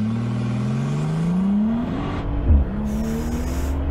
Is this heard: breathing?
no